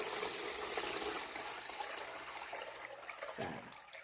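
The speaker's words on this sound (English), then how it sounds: "Gonna strain it one more time." Palm nut liquid for Banga soup trickles and splashes steadily through a strainer, a faint continuous pour with a short gurgle near the end.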